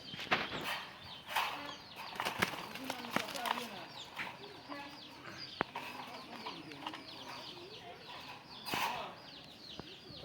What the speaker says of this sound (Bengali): আমি এখন এখান থেকে একটা কবুতর ধরবো